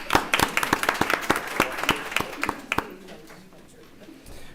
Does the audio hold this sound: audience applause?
yes